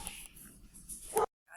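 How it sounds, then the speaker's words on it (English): A dog lets out a short, sharp bark at a neighbor near the end, loud and close in a quiet indoor room, then the sound cuts to silence. "that was just my Lucy just barking at the neighbor."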